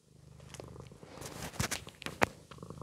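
A domestic cat purrs right against the microphone, a close, steady rumbling purr with a few soft bumps and movements.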